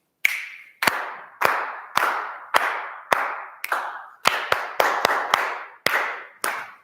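Thirteen sharp claps or finger-clicks mark a steady rhythmic pulse in a singing lesson, each hit ringing briefly in a reverberant room. The sound is moderately close, with no talk over it.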